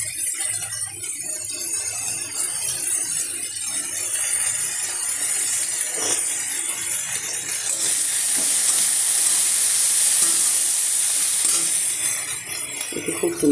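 Dried chilli, small-cut eggplant and potato fry in a hot wok with a steady close sizzle and occasional stirring, the hiss swelling louder midway before settling.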